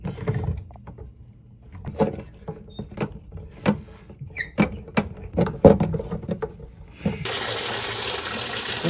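Cold water runs steadily from an apartment tap with a bright hiss that swells louder near the end, after a stretch of scattered clinks and knocks.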